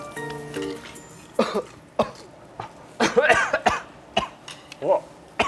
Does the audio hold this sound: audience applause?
no